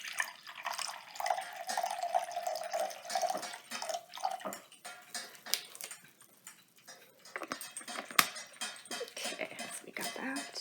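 Apple juice poured from a measuring cup into a BlendJet blender, a light splashing trickle that runs for a few seconds and then gives way to small clinks and handling knocks, quiet and close.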